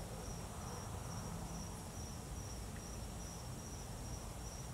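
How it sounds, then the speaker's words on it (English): Crickets chirp at night outside a villa in Orlando, Florida, a dense, continuous, high-pitched trill that holds steady throughout with no voices. "I've just come outside to take in some of my nightly cricket noises"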